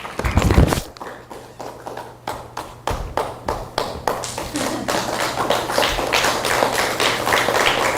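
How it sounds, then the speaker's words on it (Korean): A church congregation claps to welcome a pastor to the stage, starting with a loud burst and settling into a steady run of rapid, sharp handclaps that carries on throughout, with a low hum underneath. "우리 목사님께는 너무나도 반갑다는 뜻에서 박수 한번 힘차게 맞이하겠습니다"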